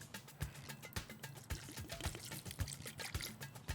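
Cognac poured into a pan off the heat while making Coquilles Saint Jacques, a thin splashing trickle with irregular bubbling glugs, close and quiet in a home kitchen.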